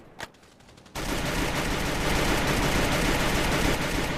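Video-game gunfire bursts out after a near-silent start: one brief sharp crack, then dense, continuous rapid fire roaring loud and unbroken to the end, with no voices.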